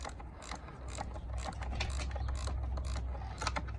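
A ratchet clicks rapidly and steadily up close while backing out an 8 mm bolt on a BMW E36 seat recline mechanism, over a low background hum.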